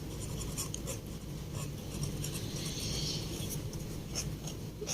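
Chalk or marker scratching across a board during an accounting class, a continuous close scraping with soft rhythmic strokes over a low background hum.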